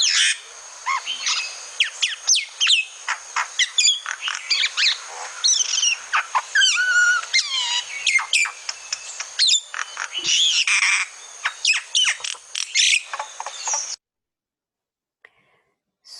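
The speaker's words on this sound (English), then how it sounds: "So here's the call of the common myna." Recorded calls of a common myna: a busy run of varied whistles, chirps, clicks and squawks in quick irregular bursts, loud and close, stopping abruptly near the end and followed by near silence.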